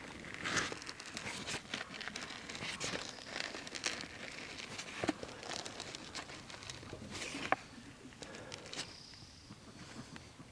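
A knife cuts a hole through the center of a piece of rawhide, a close, quiet stretch of crackling, crinkling and scraping with a few sharper snaps, no talking.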